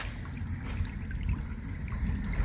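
Low, gurgling flow of water running through a flooded rice paddy field in a Chhattisgarh village, a close, soft bubbling wash with a faint steady hiss above it and no voices over it.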